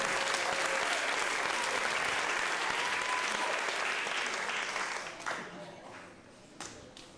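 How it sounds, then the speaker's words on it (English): An audience at an opening ceremony applauds with dense, steady clapping that holds for several seconds, then thins out and fades near the end. "But a big round of applause for these guys."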